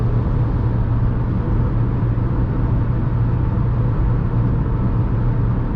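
Cabin drone inside a 2020 Hyundai i10 with a 1.2 MPI engine, cruising at 130 km/h around 3,500 rpm on a windy day, a steady loud low hum of engine, road and wind noise without pauses or talk.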